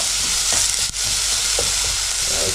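Onions and garlic browning in a frying pan for a Venezuelan pisca andina breakfast soup. A loud, dense, close-up sizzle hisses continuously, with a brief dip and faint stirring scrapes.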